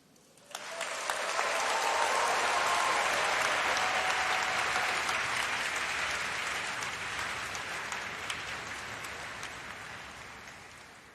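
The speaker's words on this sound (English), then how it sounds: "I want you to take the roof off in cheers and applause." A large graduation ceremony audience breaks into sustained applause and cheering that swells quickly, holds strong for several seconds, then slowly eases while staying loud.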